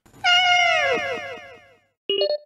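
A pet cat gives one loud, close, drawn-out meow that slides downward and fades, followed by a short bright chime after a brief silence.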